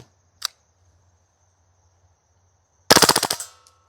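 A Lancer Tactical LTX gas airsoft rifle fires a rapid burst of about eight close, loud shots that taper off, after a single sharp click earlier amid quiet.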